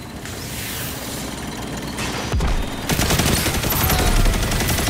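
A heavy gunfight in Destiny 2, with sustained rapid gunfire and blasts piling on top of each other in a continuous loud roar, growing denser toward the end.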